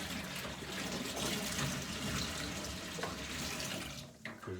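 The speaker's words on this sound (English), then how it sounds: "Empty this hot water out that's had your sanitizer in." Hot sanitizer water is emptied out of a Pinter home-brewing vessel, pouring in a steady, close splashing rush with no talk over it, easing off near the end.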